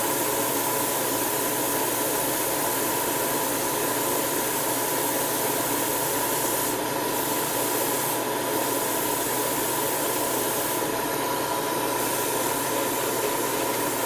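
Gray primer sprays onto 1/100-scale Gundam model kit parts with a loud, continuous hiss that runs steady throughout, close and with no talking.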